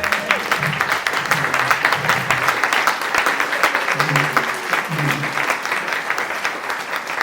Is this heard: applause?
yes